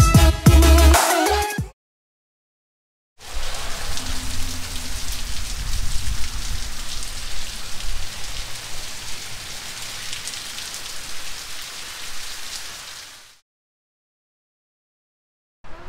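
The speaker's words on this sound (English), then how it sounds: "So it's raining out, sort of" Rain falls outside on a damp day near a rocket launch site, a steady close hiss of drops on surfaces that sets in after a brief sound and silence, then cuts off into quiet.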